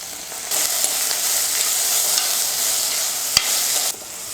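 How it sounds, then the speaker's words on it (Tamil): Onions and tomatoes sautéing in a pan for chicken kulambu, a continuous bright hiss with soft stirring scrapes, close and steady, no voices. "ரெண்டு தக்காளி கட் பண்ணி வச்சுருக்கிறேன் அதை போட்டு நல்லா வதக்கிக்கிறேன்"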